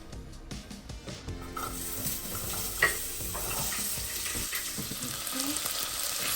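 Onion and garlic frying in a pot, a steady close sizzle with light stirring scrapes and a brief louder clatter partway through, no talk.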